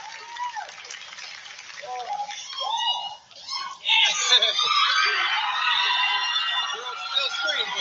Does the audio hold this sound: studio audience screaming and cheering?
yes